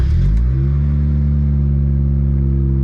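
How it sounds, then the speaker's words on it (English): Mazda Miata engine cold-starting by remote start, a brief crank and catch followed by a loud, steady, smooth idle that holds evenly to the end. "Authentic cold start."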